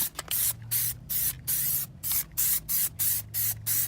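Plasti Dip is sprayed from an aerosol can onto car wheels in about ten short hissing bursts with brief gaps between them, close and fairly quiet, with no talking.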